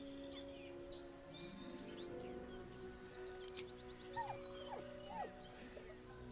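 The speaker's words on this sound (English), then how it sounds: "With a deep, heartbroken whine, the dog bows his head." A dog whines in the video game Baldur's Gate 3, a deep, heartbroken sound. Several soft, rising and falling whimpers come near the end, layered over a steady ambient music bed.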